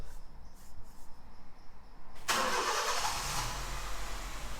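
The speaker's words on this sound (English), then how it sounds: "I'll get Joe to start the car for us." A car engine cranks with a faint rhythmic churn, then catches and roars into a steady, broadband idle.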